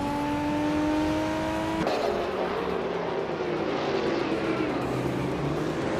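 A 1989 Ferrari F40 competition car revs at the start of a race at Buddh International Circuit in a racing game: a whining engine tone climbs, then gives way to a loud, sustained roar of accelerating racing cars.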